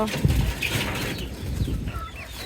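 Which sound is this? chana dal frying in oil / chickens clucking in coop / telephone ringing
chickens clucking in coop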